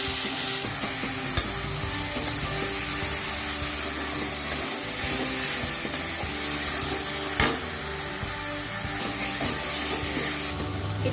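Spices and sliced raw green chillies stirred in a hot frying pan, with a steady sizzle under repeated scraping and clinking of the spoon against the pan, close and continuous.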